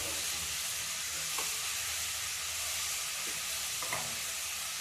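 Carrots stirred in hot ghee for carrot halwa fizz with a steady, close sizzle, while a spoon scrapes the pan in a few soft, irregular strokes; no talking.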